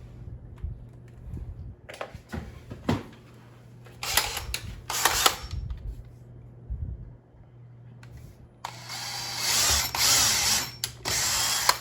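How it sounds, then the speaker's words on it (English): Short bursts from a power drill boring pilot holes for mounting window blinds, two or three separate runs with quiet pauses and handling clatter between them. "now we're ready to pre-drill our holes."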